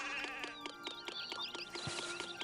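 Repeated sheep bleats from the video game Zeus: Master of Olympus, several overlapping calls over a steady game soundscape, with no talking.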